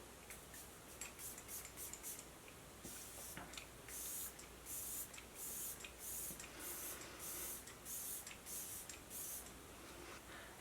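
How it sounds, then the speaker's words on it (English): Makeup setting spray pump-misted over the face in a series of quick, bright hissing bursts, about a dozen spritzes in an uneven rhythm, close and fairly quiet with no talking. "firmly press pump to release a generous mist over makeup"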